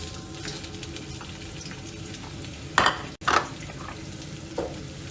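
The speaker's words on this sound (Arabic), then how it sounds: "نحط البصل. اول ما تسمعون هالصوت يعني الزيت جاهز" Onion dropped into hot oil in a pan, a continuous crackling sizzle with a couple of sharper bursts and clatters as the pieces hit and are stirred, no voices.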